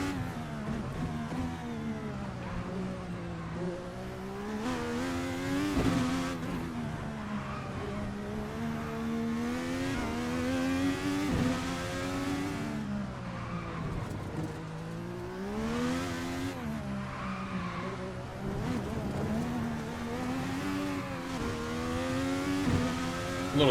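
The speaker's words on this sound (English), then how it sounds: "A little drift out of that little chicane there." In a racing video game, a race car engine whines and revs continuously, pitch rising and falling through gear changes as it drifts through a chicane, with faint tire squeal.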